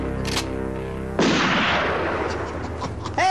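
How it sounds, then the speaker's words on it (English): A burst of gunfire erupts after a stretch of a sustained tone, with loud, ragged shots and reverberating booms crowding together and then trailing off over a couple of seconds. "I'm shooting at people."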